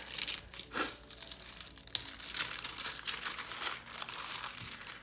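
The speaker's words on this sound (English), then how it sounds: "So I'm gonna try to open this best I can without ripping it, but I don't know if that's possible." Plastic packaging on a Wordsworth planner is torn open by hand, giving close crinkling and ripping in uneven bursts over a few seconds.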